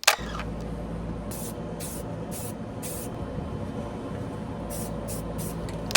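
Short hissing bursts from a spray can, several quick sprays in a row, then a pause and another cluster of bursts, fairly close over a low hum.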